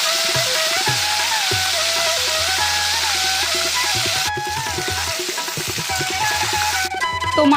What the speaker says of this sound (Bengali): এই যে মাছের মাথাটা ভাজবো গ্যাসে কিন্তু দেখো কড়াই বসিয়ে দিয়েছি